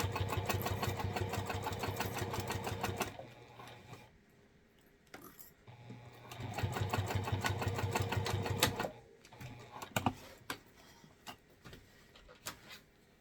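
A sewing machine stitches a handbag in two steady runs of several seconds each, near and even, separated by a quiet pause and followed by a few clicks and handling sounds.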